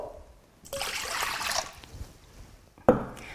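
Water for sandwich bread dough poured into a bowl, a short trickling splash of about a second in a quiet room, then a brief sharper knock near the end.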